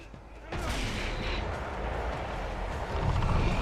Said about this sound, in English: let's throw a grenade real quick